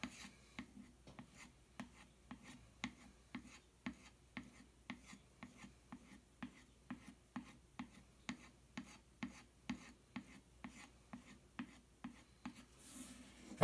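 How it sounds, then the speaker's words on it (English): A wood carving gouge being stropped on a fine-grit strop, a close rhythmic series of about thirty short rasping pulls at an even pace, fairly quiet with no talking. "now for stropping, you're just going to pull away."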